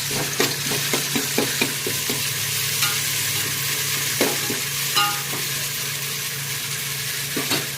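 Coriander, mint and ginger-garlic paste stirred in a hot frying pan for a meal maker dum biryani, a steady close sizzle broken by repeated scraping strokes of the spoon.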